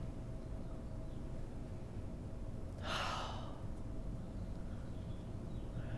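A single soft breath exhaled during a yoga practice, brief and fairly faint, heard over a steady background hum.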